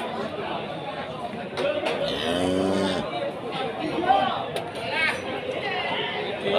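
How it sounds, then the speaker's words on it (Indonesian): Simmental cattle at a village livestock market in Pati, Central Java, with one loud, close, drawn-out moo in the middle, set against constant crowd chatter and nearby talking. "Sapi si metal."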